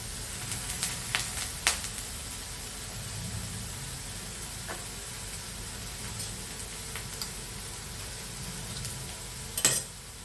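Garlic and fresh mint sautéing in hot oil for biryani, a steady low crackling sizzle with occasional sharper ticks and a brief clatter near the end, no voices.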